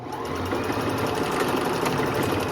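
Sewing machine running steadily as it stitches the two ends of an elastic waistband together on a thrifted skirt alteration, a fast even whir that fills the whole stretch close up.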